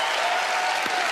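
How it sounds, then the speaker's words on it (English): A short burst of steady, dense audience applause in a television magic show studio, loud and continuous with no break. "Give her a round of applause."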